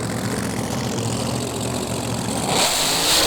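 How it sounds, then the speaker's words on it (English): A supercharged pink altered drag racing car idles loudly at the start line, its engine a rough, throbbing rumble that swells into a harder rev near the end, close and with no voices. "she's going to be racing Mark Trigger Greaves in the pink altered"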